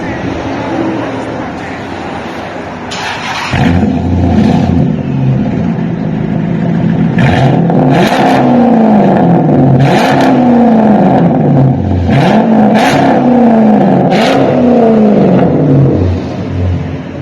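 A 2006 Chrysler 300C with full 3-inch straight-pipe dual exhaust and no mufflers or resonators idles with a loud rumble, then revs repeatedly in rising and falling bursts that roar close and aggressive throughout.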